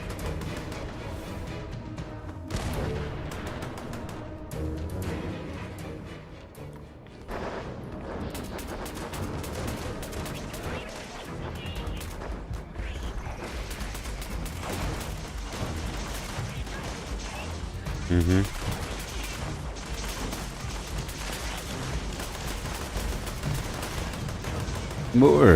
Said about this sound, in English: I'm getting shot at by the aliens. Expect missile strikes.